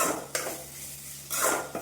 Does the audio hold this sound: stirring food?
yes